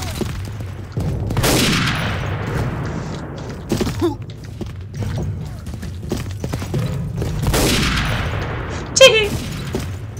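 Gunfire in the video game Day of Defeat, with sharp shots scattered across the clip amid dense battle noise, including a louder crack near the end, while voices talk over it.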